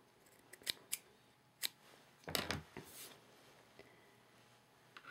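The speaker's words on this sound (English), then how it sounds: "Just kind of trim the edges a little bit, just so they won't look like big ears coming out the side." Scissors trimming the edges of a handmade Christmas ornament, a handful of quiet, sharp snips scattered irregularly and close by, with soft handling noises between cuts and no speech.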